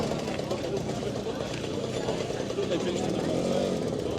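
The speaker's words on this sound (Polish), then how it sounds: "A tymczasem coś tu śmiga. Motoryna." A Romet Motorynka moped rides past outdoors on a muddy track, its small engine a steady buzzing drone at moderate distance, with someone speaking over it.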